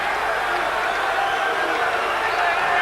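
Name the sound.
rugby stadium crowd reacting with displeasure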